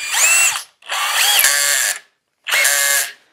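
A Craftsman CMCK220D2 cordless drill driver, set to a torque level, whirs loudly in three close bursts, each spinning for about half a second to a second before stopping abruptly, heard alone without speech.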